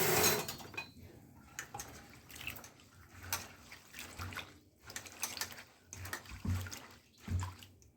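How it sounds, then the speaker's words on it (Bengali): Freshly shelled green peas being washed in a pot of water by hand, with soft sloshing, splashing and light knocking of the container repeating in uneven bursts, fairly quiet and close. "এই মটরগুলোকে প্রথমে জল দিয়ে ভালো করে ধুয়ে নিতে হবে।"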